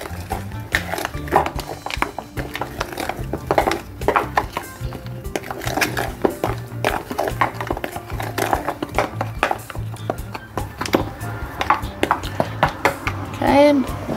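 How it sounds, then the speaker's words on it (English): Banana bread batter with chia seeds gets mixed in a bowl with repeated clinks and taps of a utensil against the bowl, irregular and close by. A voice talks over part of it. "Some chai seed. And I'm just gonna mix this up."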